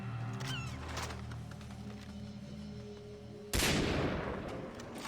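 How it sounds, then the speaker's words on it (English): A single loud, sharp rifle shot from a scoped bolt-action sniper rifle in Far Cry 3 cracks out partway through, after a stretch of quieter game ambience, its echo trailing off. "They make us use the bolt action sniper rifle with a scope that can't zoom in any farther."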